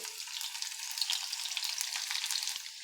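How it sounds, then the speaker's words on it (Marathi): Steady hiss and crackle of garlic frying in hot oil with cumin for tempering, close up and continuous, with no voices. "लसूण थोडासा छान गुलाबी रंगावर परतून घेऊ आपण"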